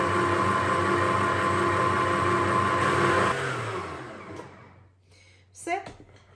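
An electric mixer at medium speed beats egg yolks into cake batter for a drunken cherry cake, a steady whirring drone that winds down and stops, followed by a few light clinks.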